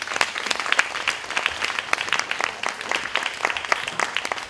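An audience at a Jean Claude Biguine hair event at the BBox claps steadily, a lively patter of individual hands spreading through the room with small peaks but no break.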